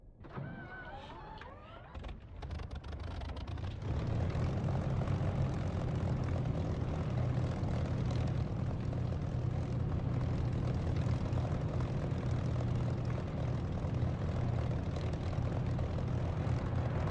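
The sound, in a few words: aircraft engine running before takeoff in DCS flight simulator video game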